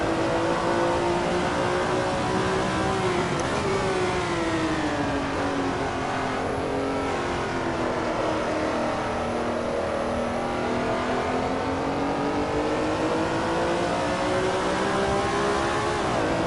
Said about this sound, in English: I think I'll do one more lap here and shut up so you can listen to the car.